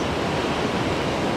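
A swollen mountain stream in Chichibu, running high after days of rain, rushes as a dense, unbroken roar of water, loud and close with no talk over it.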